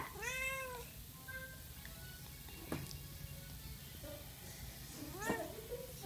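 Cat meowing in a game, several drawn-out harmonic meows at the start, another pair near the end, fairly clear over a steady low hum.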